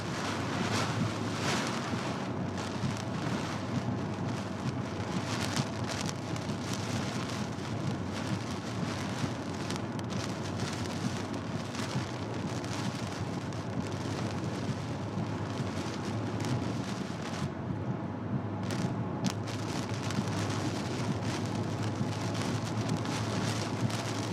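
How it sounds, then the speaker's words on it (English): Wind roars during a storm chase in Weatherford, Texas, a loud, continuous broadband rush with gusty fluctuations and some rain-like patter, steady throughout with no talking. "Why is this wind coming from the north?"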